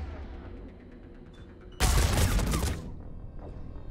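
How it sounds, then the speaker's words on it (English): A sudden, loud burst of rapid gunfire in the video game Mass Effect 3 lasts about a second, then cuts off, leaving a quiet background with faint scattered sounds. "I wasn't expecting to walk out into legitimate gunfire."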